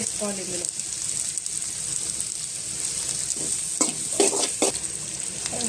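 Vegetables for paneer fried rice sizzle in a hot kadai while being stirred, a steady bright frying hiss with intermittent scraping clanks of the spatula against the pan, close and clear.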